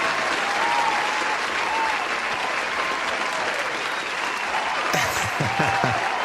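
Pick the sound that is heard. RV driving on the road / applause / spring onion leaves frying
applause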